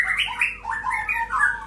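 A white-rumped shama (murai batu) with a leg ring calls in a rapid series of bright, warbling whistles and chirps, fairly close and loud, with no other voices.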